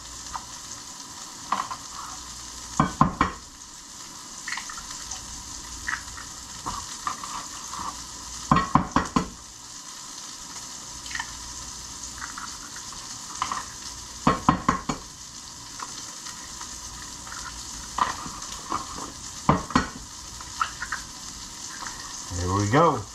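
Eggs and Jimmy Dean sausage frying in a pan, giving a steady, close hiss and crackle throughout, broken by periodic clinks and scrapes of a utensil stirring against the pan.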